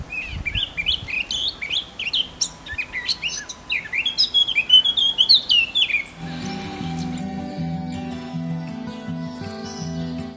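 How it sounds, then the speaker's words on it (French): A Eurasian blackcap sings in vineyards, delivering a run of rapid, bright chirping phrases close by. Other, lower sounds take over once the song stops. "Dans les vignes, la fauvette à tête noire chante sur les fils."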